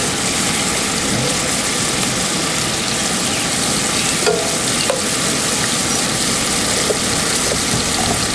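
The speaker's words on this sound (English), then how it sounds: "We want that oil to get the flavor of that meat, so we're going to fry this just a little bit." Meat frying in oil in a pan at a state park campsite, a steady close sizzle with occasional stirring scrapes running throughout, no talking.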